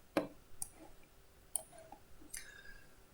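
Typing on a computer keyboard while coding a function: a handful of sparse, faint key clicks spaced irregularly against quiet room noise, with no voices.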